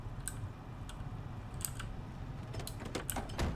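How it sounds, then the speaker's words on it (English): Keys on a computer keyboard click in quick, uneven bursts of taps, close and quiet over a low background hum, with no voices. "Keyboard really sounds top tier"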